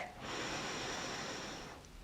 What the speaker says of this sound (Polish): Duży wdech